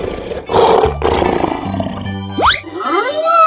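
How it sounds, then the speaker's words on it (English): A cartoon lion gives two loud, rough roars close up, followed by bright jingling, tinkling sound effects that sweep upward and down. "Lion."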